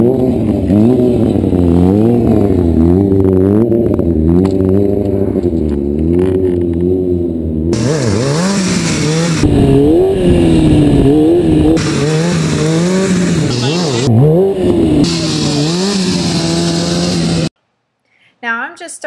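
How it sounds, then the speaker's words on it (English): A motorcycle engine revs hard and rises and falls in pitch, with bursts of tire squeal, before cutting off abruptly near the end. "I am a motorcycle stunt rider, which means I do crazy things like this."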